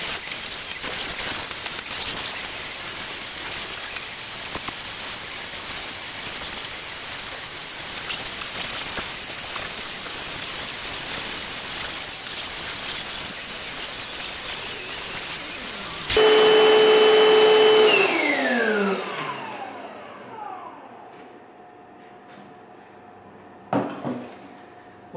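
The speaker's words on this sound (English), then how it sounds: "we're just going to turn the router on and slowly plunge it through" A plunge router cutting wood gives a loud, steady high-pitched motor whine that runs continuously, then cuts off and spins down with a falling tone, followed by quieter knocks and handling noises.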